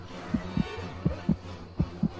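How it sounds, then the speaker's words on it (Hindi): Heartbeat sound effect for a horror story: three paired lub-dub thumps, deep and steady, with a low hum underneath. "दिल जोरों से धड़कने लगा"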